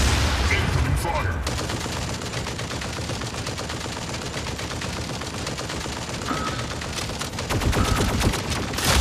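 Dense, continuous weapon fire rolls through a Mech Arena mobile battle, rapid machine-gun bursts layered with loud shots and occasional booms, steady and close for the whole stretch.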